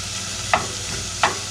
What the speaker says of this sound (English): we'll just use our little wooden breaker upper spoon to break all those little chopped up pieces of that fine thick cut bacon